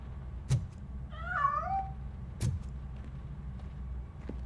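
A cat in the video game Robocop Rogue City gives one short, wavering meow at moderate distance, set between two sharp clicks over a low, steady ambient hum.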